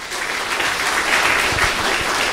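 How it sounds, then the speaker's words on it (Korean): An audience at a women's volleyball rookie draft in Korea gives a big round of encouraging applause, a dense, continuous wash of many hands clapping at full strength with no voices over it. "큰 격려의 박수를 좀 한번 쳐주시기 바랍니다"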